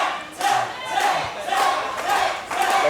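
A crowd at an independent wrestling show in Bacliff, Texas, shouts in loud, rhythmic bursts, pushing for a submission tap on a triangle hold. The chanting swells and fades several times.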